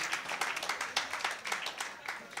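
An audience applauds an event MC, a short burst of dense, fairly quiet clapping that carries on steadily.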